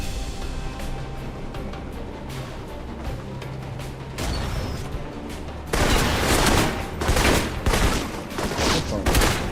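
Gunfire in the spy shooter game Alpha Protocol: scattered shots over a low game background, then a sudden burst of loud, rapid automatic fire and explosions filling the last few seconds.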